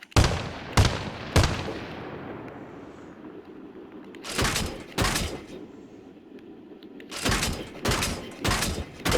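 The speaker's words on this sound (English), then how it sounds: "It's a 30 millimeter Bushmaster." A 30 mm Bushmaster cannon firing high-explosive tracer rounds from a vehicle in the video game Arma: loud, close bursts of heavy booms, three quick shots, a pause, then two more and a rapid volley of four, each trailing into a rumbling decay.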